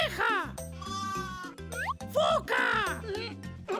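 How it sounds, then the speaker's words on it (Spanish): Cartoon sheep bleats rise in a few wavering calls over a bouncy children's tune, loud and close. "¡Oveja!"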